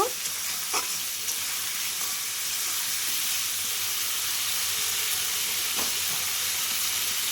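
Papaya, potato and katla fish curry with spices frying in a pan, a loud continuous close sizzle and hiss with occasional stirring scrapes throughout.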